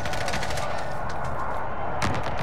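Rapid automatic gunfire in the video game Call of Duty: Warzone, a dense continuous rattle of shots with a sharper report near the end, heard loud and without talking.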